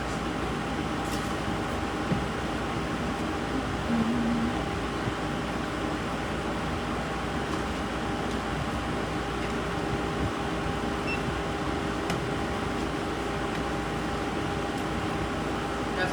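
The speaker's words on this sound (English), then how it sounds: "I gotta turn my air conditioning off" An air conditioning unit hums steadily and loudly indoors, a constant broadband drone with faint tonal lines running unchanged throughout, with no talk over it.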